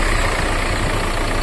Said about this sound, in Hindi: गाड़ी स्टार्ट हो गई है